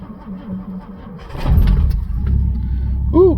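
A 1964 Ford Galaxie, worn and a little worse for wear, cranks and catches, its engine rumbling up loudly and settling into a rough, steady idle nearby.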